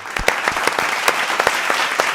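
Audience applause at a Hindi comic poetry gathering greets a poet, steady clapping from a live crowd with a few sharper claps standing out, close and full throughout.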